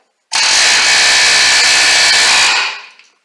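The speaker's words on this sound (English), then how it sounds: "while we got this still hot, I'm going to impact this with my air hammer" An air hammer pounds on a hot wheel bearing hub of a 2009 Kia Borrego, a loud, steady rapid rattle that starts abruptly, runs about two seconds close up, then stops and rings out briefly.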